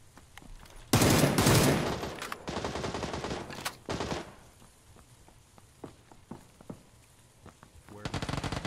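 Heavy automatic gunfire from a newly added hard-kicking rifle in a shooter video game, a loud sustained burst followed by shorter bursts and scattered single shots, with quieter gaps and a final rapid volley.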